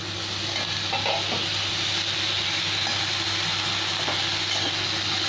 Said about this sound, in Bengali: একটু সবজিগুলো ভেজে নেবো